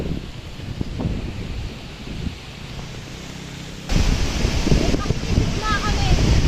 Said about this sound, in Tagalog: Kasi ayan po, grabe po yung hangin.